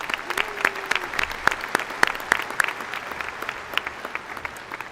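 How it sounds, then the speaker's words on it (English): Applause from a university commencement audience, a dense crowd clapping with sharp individual claps standing out, steady then gradually thinning toward the end. "I think we can clap for that."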